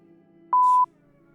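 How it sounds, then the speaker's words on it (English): A single censor beep: one steady electronic tone lasting about a third of a second, loud and clean against a faint background hum. "I might have to beep that."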